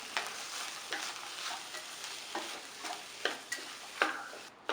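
A spoon stirs masala of green peas, peanuts, coriander leaves and salt in a pan, scraping in repeated irregular strokes with a soft sizzle beneath, close and fairly quiet, with no talking.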